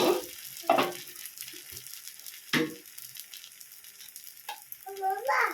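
A rice-flour dosa frying in oil on a pan, giving a soft sizzle with a few sharper crackles and clatters, close but fairly quiet, with no talking.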